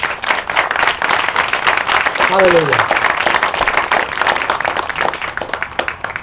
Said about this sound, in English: just give all those folks a big round of applause